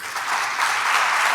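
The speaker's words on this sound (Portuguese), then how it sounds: "Aplausos, Senhor." Church congregation clapping together, a brief, dense burst of close applause that holds steady throughout.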